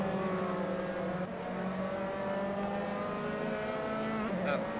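Dallara Formula 3 race cars in Assetto Corsa at the Nürburgring drone steadily with high, buzzing engine tones running close together, pitch shifting slightly as they exit a hairpin, loud and continuous throughout.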